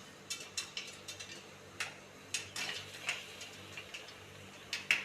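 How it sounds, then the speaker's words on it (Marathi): Popcorn kernels pop inside a pressure cooker with its whistle removed, giving scattered sharp ticks and taps at an irregular pace, a dozen or so over a few seconds above a low steady background hum. "हा आपल्या पॉपकॉर्नचा आवाज यायला सुरुवात झाली आहे"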